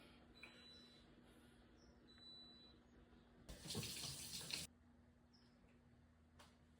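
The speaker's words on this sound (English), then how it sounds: "I'm gonna wash my hands" Tap water gushes into a sink for about a second during handwashing in a home kitchen while brewing kombucha, a short mid-level burst against a quiet room.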